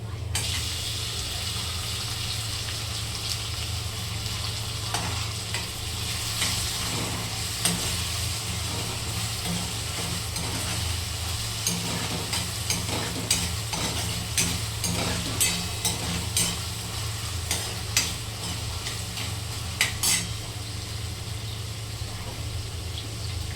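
Tomatoes frying and being stirred in a pan with cauliflower, a steady low sizzle throughout with frequent scraping and clicking of the spoon against the pan, close and continuous.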